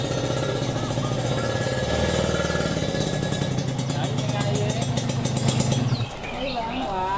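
A motorcycle engine runs steadily close by, its mid-range drone continuing for several seconds before cutting off abruptly near the end, while people talk over it.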